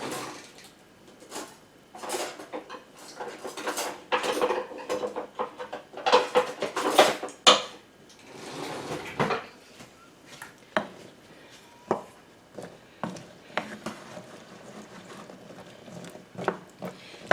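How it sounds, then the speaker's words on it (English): A wooden spoon stirring cranberry sauce in a pot, soft irregular scrapes, knocks and wet clicks against the pot's sides, quiet and close with no talking. "Might switch to a wooden spoon here."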